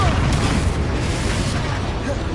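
A Bombarda spell blast in the video game Hogwarts Legacy: a dense, loud burst of booming noise sustained through the short moment, overlapping the caster's voice.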